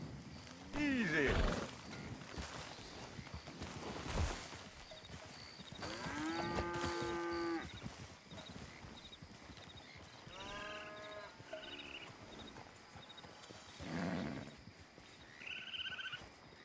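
Cattle low and moo in Red Dead Redemption 2, several drawn-out calls rising and falling at moderate distance, with a voice talking between and over them and faint hoofbeats in the background.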